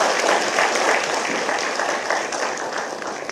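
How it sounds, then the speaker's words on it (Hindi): Applause from the audience at a meritorious student award ceremony in Uttarakhand, welcoming the education minister: a steady, dense wash of clapping that holds for several seconds without breaks. "धन सिंह जी, एक बार ताली बजाइए"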